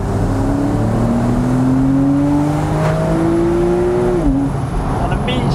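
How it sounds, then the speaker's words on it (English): A Porsche 911 Carrera 4S Cabriolet (997.2) with its roof down, its rear-mounted flat-six engine humming loudly and close, pitch rising and falling steadily as it accelerates under load. "Immediately, you hear so much more of that flat six engine behind."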